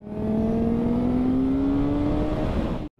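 A Kawasaki Ninja motorcycle engine warming up, holding a loud, steady idle whose pitch rises slowly as the revs climb, then cutting off abruptly near the end.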